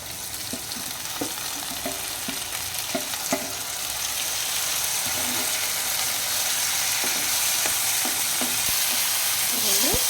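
Cucumber pieces and tomato frying in a pan for chutney make a steady sizzle. A spoon scrapes and clicks against the pan at irregular moments, and the hiss grows a little louder partway through, with no talk.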